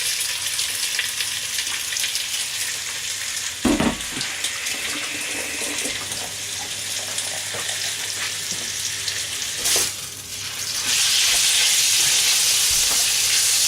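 Chicken pieces hitting hot oil in a very hot wok, sizzling and crackling steadily through the whole stretch, with clatters as the meat is stirred and tossed, and a brighter hiss rising near the end.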